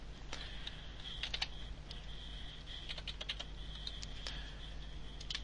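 Serial number being typed on a computer keyboard while configuring an Adcon A440 telemetry radio: irregular bursts of close, crisp key clicks over a steady low hum, with no talk.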